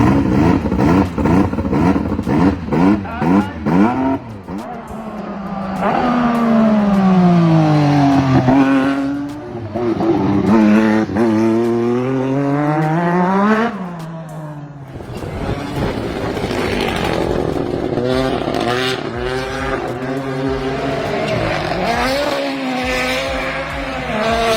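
Race cars running in a public demonstration at Tokyo Auto Salon, engines screaming up through the gears in loud sweeping passes, with rising and falling revs and crowd-area noise between runs.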